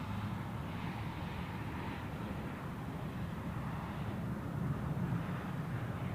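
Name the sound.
Icelandair Boeing 757 airliner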